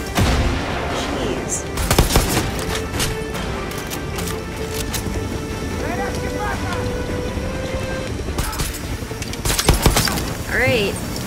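Gunfire in the shooter game Far Cry 6, with sharp shots and bursts cracking over a windy, busy backdrop, the loudest volleys near the start and toward the end, under occasional talking.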